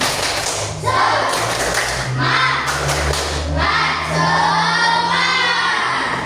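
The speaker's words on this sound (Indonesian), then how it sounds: "marilah kita bersama-sama melakukan tepuk semangat" A school class performs the Indonesian 'tepuk semangat' spirit chant, voices chanting together in unison over rhythmic group hand claps and thumps, loud and close throughout.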